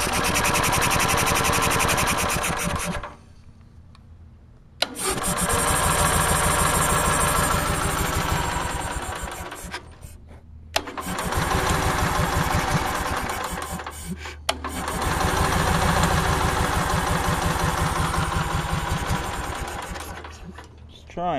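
An Onan engine, started with the choke held closed, cranks and runs in several long, loud bursts separated by brief pauses, with someone talking between them.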